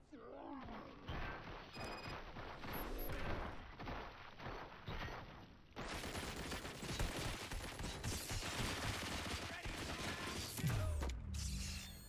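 Sustained video game gunfire in RoboCop Rogue City, a dense, loud barrage of shots mixed with mechanical clatter and game effects, running continuously and intensifying partway through with no pause.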